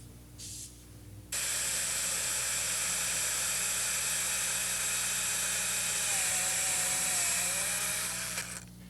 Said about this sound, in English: I'm going to go ahead and drill these holes up